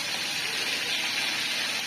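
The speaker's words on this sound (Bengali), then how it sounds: "তেল গরম হয়ে গেছে, এটা আছে তাই না, মাছটা ভাজতে খুব ভালো হয়।" Fish sizzles in hot oil in a home kitchen, a steady loud bright hiss and crackle running throughout without pause.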